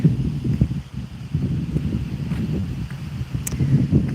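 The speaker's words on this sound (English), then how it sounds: "I hope the audio is okay on this, because it's a little bit windy" Gusty outdoor wind buffets the microphone in low, uneven rumbling bursts, loud and close, while a quad bike approaches somewhere behind it.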